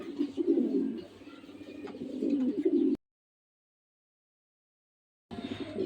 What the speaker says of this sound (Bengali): এখানে টপ ক্লাস কোয়ালিটির এক পেয়ার মাক্স কবুতর, অথবা ব্লু চেকার কবুতর।